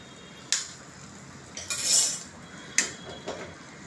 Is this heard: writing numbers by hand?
no